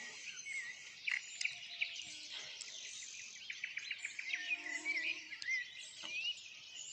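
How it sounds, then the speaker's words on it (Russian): Nightingales sing in a village in the early morning, their rapid trills and chirps layered over a steady high insect-like hiss of other birdsong, moderately distant and continuous. "У нас запели соловьи."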